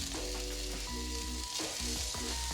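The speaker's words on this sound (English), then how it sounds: "Now for our second burger, we're gonna put our patty in." A smash burger patty sizzles loudly on a hot griddle, a dense close hiss layered with clanks and scraping from a metal spatula, all in a short burst without speech.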